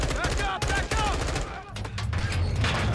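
Rapid gunfire bursts in the Modern Warfare 2 campaign, a dense run of sharp cracks with shouting voices mixed in and a low rumble underneath.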